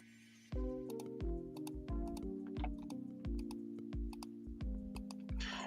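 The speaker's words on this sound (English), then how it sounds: "Your new computer is very clicky." Brisk clicky typing on a computer keyboard, with sharp keystroke ticks repeating in quick uneven bursts over a steady low hum, close and fairly loud.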